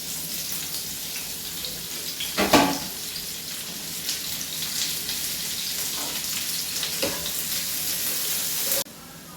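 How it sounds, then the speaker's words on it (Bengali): Onion frying in leftover fish-frying oil for a spicy puthi fish curry, a steady loud sizzle throughout with a brief sharp crackling burst early on, then cutting off abruptly near the end. "এবার আমি পেঁয়াজটা দিয়ে দেব আগে যা তেল ছিল সেটাই আমার হয়ে যাবে মাছ ভাজার তেলটা"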